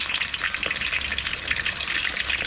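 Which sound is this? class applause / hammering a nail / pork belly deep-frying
pork belly deep-frying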